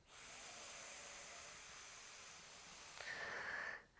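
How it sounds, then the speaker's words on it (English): A long, steady, breathy hiss of deep inhalation during a Pilates pelvic floor breathing exercise, close and soft, rising slightly near the end before cutting off, with no talking. "So deep breath in."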